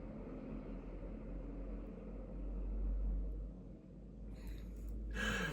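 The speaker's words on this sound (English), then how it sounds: "there's a very loud truck going by" A very loud truck passes by outside, a heavy low rumble swelling and easing over several seconds, heard indoors from a distance with faint clicks near the end.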